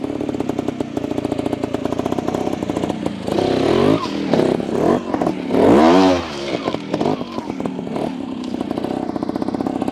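A 2022 Beta Evo 300 trials motorcycle engine idles with a rapid close putter, then revs up in two rising bursts with clutch noise before settling back to a ticking idle.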